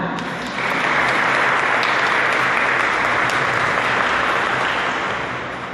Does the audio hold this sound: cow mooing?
no